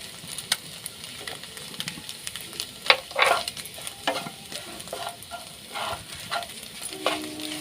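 Egg and curry leaves fry and sizzle in a pan while a spatula stirs them. Scraping strokes come in irregular bursts over a steady hiss.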